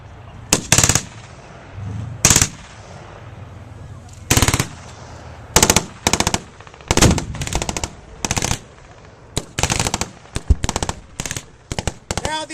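A .30 caliber light machine gun fires in about a dozen short bursts, loud and close, with brief pauses between them, during a Marine assault on a bunker backed by a Sherman tank.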